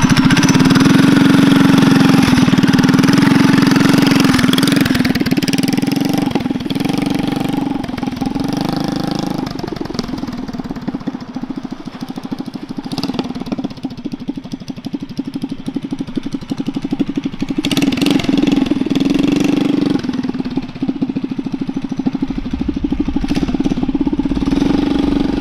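Predator 212 engine on a mini chopper running steadily nearby, a loud continuous low throbbing drone with slight rises and dips in revs throughout, no talking.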